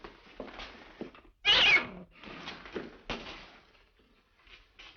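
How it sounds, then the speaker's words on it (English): A house cat, mother to a new litter of kittens, lets out one sharp meow in a quiet room between soft murmurs of talk. "Our cat had kittens and they're all over the place."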